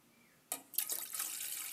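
Water pours into a cooking pot for polenta. After a quiet moment, a brief splash starts a steady, close rush of running water that keeps going to the end.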